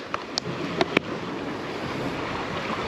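Strong sea waves wash against a rocky shore during rockfishing, a continuous roar with wind buffeting the microphone and a few sharp knocks near the start.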